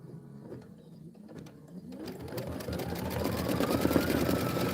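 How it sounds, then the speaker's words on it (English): An embroidery machine stitches out a ladder design, starting softly amid light handling noise and building into a louder, steady mechanical hum with a rising motor whine. "Stitch out that ladder."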